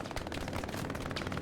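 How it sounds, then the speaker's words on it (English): Machine gun firing from far off in the World War II shooter Hell Let Loose, a dense run of rapid, sharp bursts rattling continuously with no voices over it. "There's an MG opening up on the point."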